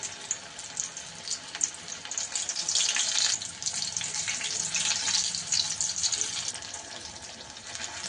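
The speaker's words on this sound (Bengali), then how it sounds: "আমি একটু ভালো করে ভেজে নেব" Battered, stuffed pointed gourd (kakrol) fries in hot oil over a lowered gas flame, giving a continuous sizzling hiss that swells midway and then settles, with no talking.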